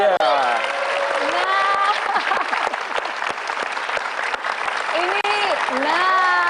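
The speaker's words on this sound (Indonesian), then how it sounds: "Jadi kita berikan tepuk tangan yang paling meriah untuk Ibu Nur." An audience claps for a guest on a Indonesian talk show while a presenter keeps talking over it, with scattered claps beneath the clear, close voice.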